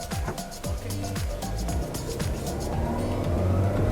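A 2007 Toyota Caldina 1.8 accelerates from a standstill in drive, its engine note climbing steadily and loudly from inside the car with a continuous low rumble beneath.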